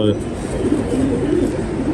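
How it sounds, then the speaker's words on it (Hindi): Ferozpuri pigeons give soft, low coos at close range, partly buried under someone speaking. "ये तीनों कबूतर जो मैंने अभी तक आपको दिखाए हैं ये हिस्ट्री लेवल कबूतर हैं"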